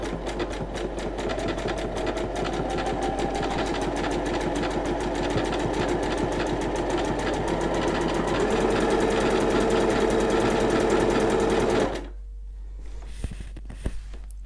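A Minerva DecorMaster sewing machine sews decorative stitch 38 in one continuous, close, steady whir of fast rhythmic needle strokes for about twelve seconds before stopping abruptly into quiet.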